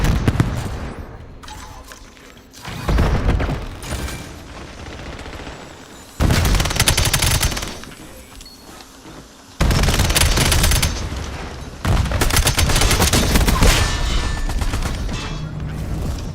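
In Black Ops 7 on Nuketown, a gun turret is fired on in loud, close bursts of automatic fire, four or five sustained volleys separated by short pauses, with a booming impact or two.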